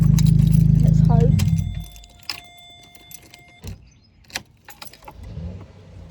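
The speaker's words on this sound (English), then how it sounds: "So we've just turned the car off." A Vauxhall Corsa switched off with its key: a loud, steady low engine rumble that cuts out, followed by faint jangling of the keys and light clicks in the quiet cabin.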